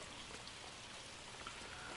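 Rain falls steadily in the video game L.A. Noire, a constant faint hiss of drops pattering on surfaces with no pauses and no voices.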